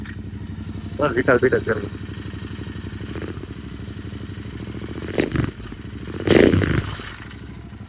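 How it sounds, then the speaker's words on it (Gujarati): A motorcycle engine is revved in a couple of short, loud bursts over a steady idle, with someone talking close by. "હવે રેવ કરું રેવ"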